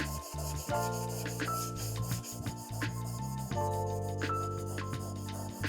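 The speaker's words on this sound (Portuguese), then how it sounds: "Vou refinar o lixamento na peça todinha" Steady rubbing and sanding strokes on a carbon fiber part being refinished during repair, a continuous close abrasive scrape with small pauses and shifts in pressure, no talking.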